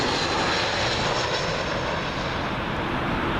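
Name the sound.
airliner arriving at Heathrow runway 27L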